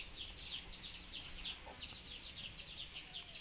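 A bantam labuyo wild chicken clucks in quick, repeated high chirping bursts that run steadily throughout, close by over faint outdoor background noise.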